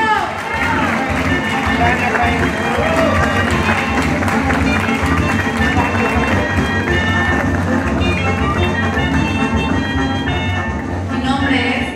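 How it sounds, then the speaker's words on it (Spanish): A large audience at a pageant presentation claps steadily for a contestant representing the province of Jaén, a dense, continuous roar of hands with crowd voices and cheering mixed in, loud and sustained. "Fuertes aplausos, por favor."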